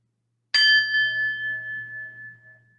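A meditation bell is struck once in a quiet room, giving a clear bright ring that hums on and slowly fades over a few seconds.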